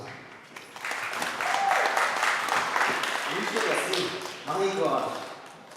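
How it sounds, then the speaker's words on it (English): A symposium audience applauds steadily for several seconds, a dense wash of clapping that swells, dips briefly, then surges again before fading. "Please give a big round of applause to Kelvin."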